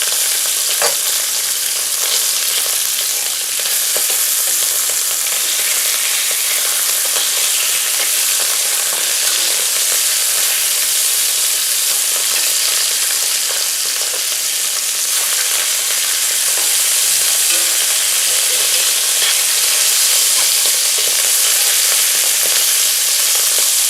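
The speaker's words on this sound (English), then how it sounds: "I just want to sear them good, and I'm going to throw these trimmings in there too because I want the flavor of them for later" Thin beef slices and trimmings sear in a hot pan, a loud, continuous sizzle and crackle with steady spitting that holds throughout without pause.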